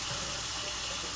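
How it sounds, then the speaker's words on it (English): Water pours steadily into a roasting pan set up for beer can chicken in a gas oven, a continuous soft splashing rush that is close and unbroken, with no talking over it. "I'm also going to put some water in the pan"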